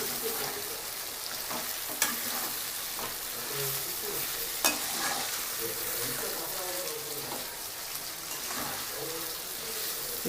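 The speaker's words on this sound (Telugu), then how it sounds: "ఇట్లా వస్తూ నిదానంగా ఈ చికెన్ మొత్తం వేగిపోతుంది." Chicken pieces frying in a nonstick pan with masala, giving a steady sizzle throughout, broken by a couple of sharp utensil clicks as it is stirred.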